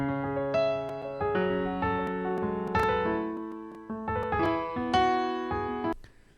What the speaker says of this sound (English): If you take out the delay, it's gonna sound like just a normal piano.